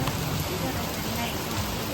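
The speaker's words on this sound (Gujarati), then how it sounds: "તો કેટલો ફાસ્ટ વરસાદ આવ્યો છે." Heavy rain pours steadily outside a shop, a dense, even hiss of drops hitting the ground and nearby surfaces that holds at constant loudness with no break.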